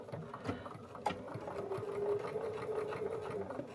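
A sewing machine stitches bias binding fabric in a steady, close mechanical hum with rapid needle chatter and a couple of brief clicks near the start.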